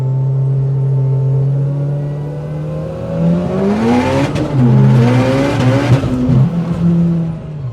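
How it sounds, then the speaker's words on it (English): A 2006 Mitsubishi EVO 9 making around 800 whp, brake boosting: a loud steady engine drone climbs in pitch, then wavers and surges through several rising and falling revs, close and alone. "I like brake boosting like this."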